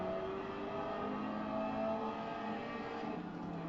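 Car engine in the Gran Turismo 7 racing game, a steady revving whine held at high pitch, moderately loud and continuous, with no speech over it.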